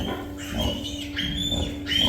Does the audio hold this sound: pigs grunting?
yes